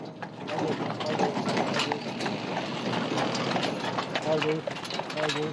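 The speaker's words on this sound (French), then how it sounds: "le cheval du parc de Sceaux apporte les premiers buis" A horse's hooves clip-clop steadily as it hauls a load of boxwood plants through the gardens of the Château de Versailles, a continuous rhythmic clatter under voices.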